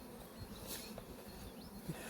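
Honey bees buzz softly around the roofs of beehives as a colony is fed, a faint continuous drone with small rising whines of individual bees passing close.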